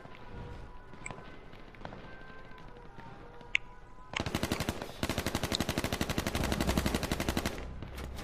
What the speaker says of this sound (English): Oh, somebody's shooting up here.